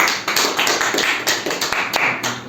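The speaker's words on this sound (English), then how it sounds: "Let's give an applause to them." An audience at an ERP live case simulation session applauds, with a dense, steady patter of close hand claps running throughout the moment.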